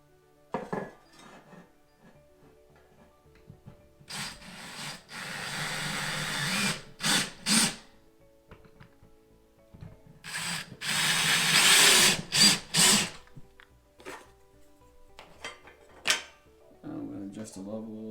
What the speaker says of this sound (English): and then you screw it into the wall.